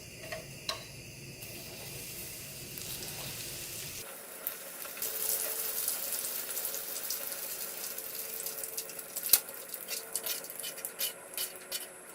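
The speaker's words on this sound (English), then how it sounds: "Now let's deep fry this one here. Okay, our oil is already hot." Jumbo shrimp tempura deep frying in hot oil, a steady close hiss of bubbling fat that swells after a few seconds, with scattered crackles and one sharp pop, no voices.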